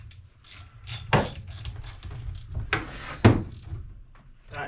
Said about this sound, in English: Tighten your bar up.